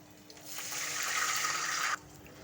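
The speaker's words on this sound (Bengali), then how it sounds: "এখন একটু পানি দিয়ে দিলাম," Water is poured into a pan of fried onions and green chillies for a prawn and pumpkin curry, a steady rushing splash lasting under two seconds that stops abruptly.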